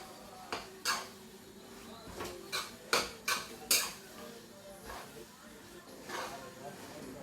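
Spaghetti and prawns stirred in a pot in a kitchen, giving a string of sharp metallic clinks and scrapes of a utensil against the pot at an irregular pace, fairly close, over a low background hum.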